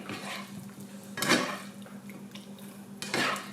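Ingredients stirred in a bowl for a chicken stir fry, light clinks and scrapes of a utensil against the dish, with two louder clatters standing out over a faint background hum.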